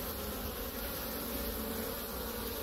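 Honey bees fly around a hive entrance in a beekeeper's colony, making a steady, dense buzz that continues without a break, up close and alone.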